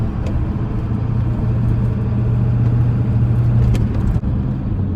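A loud, steady engine drone from inside a Ford F250 pickup with a 7.3 diesel, the low rumble holding a constant pitch as it accelerates along.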